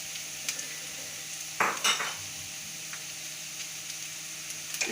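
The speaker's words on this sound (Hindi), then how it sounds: "अब इसमें मैं आप कैप्सिकम डालूंगी, रेड और ग्रीन कैप्सिकम" Red and green capsicum tossed into a pan of lightly browned frying onions, a low continuous sizzle broken by one brief loud burst of clatter and scraping, then a few light ticks.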